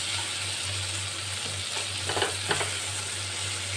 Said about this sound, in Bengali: পেঁয়াজটার সঙ্গে চিংড়ি মাছটা আমি একটু ভালো করে আগে ভেজে নেব লাল করে ভাজতে হবে পেঁয়াজগুলো